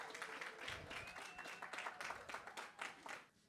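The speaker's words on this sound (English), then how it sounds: "on peut les applaudir" Audience applause for music students at a 2024 school show, steady clapping from a crowd that fades slightly toward the end, with a few voices mixed in.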